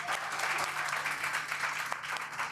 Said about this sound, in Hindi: जोरदार तालियां बजा दे